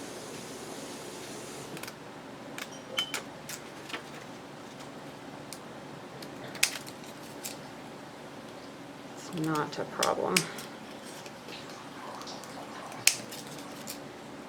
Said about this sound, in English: These are not the best cutting scissors also.